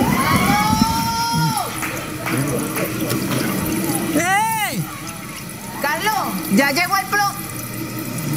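Water gushes from a leaking pipe in a steady, loud spray. Voices talk and exclaim over it throughout.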